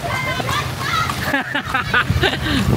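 Rain-soaked people bathe and splash in the street in Vigan, with water sloshing and splattering up close while voices, including a child's, talk and call over the noise throughout.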